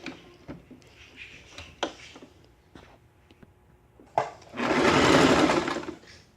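A sewing machine stitches along the armhole curve of a draped jacket, starting after some handling clicks and rustles, then a loud, close burst of rapid whirring.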